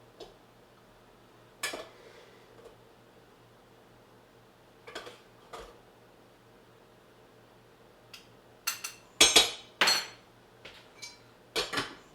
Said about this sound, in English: Get some rice out of the rice cooker.